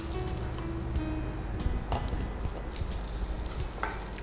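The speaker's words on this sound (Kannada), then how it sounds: "ತೆಂಗಿನ ತುರಿ ಹಾಕಿ ಸ್ವಲ್ಪ ಹುರಿಯುವ" Grated coconut is roasted in a pan for Bananthi lehya, giving a constant close sizzle and rustle with repeated soft scrapes and taps as it is stirred.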